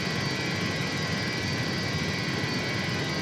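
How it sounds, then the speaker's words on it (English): Avro Vulcan jet engines in a flight simulator throttle up to get the bomber rolling, producing a steady broad roar that holds constant and fairly loud throughout, with no talking. "So, bit of throttle there to get us rolling."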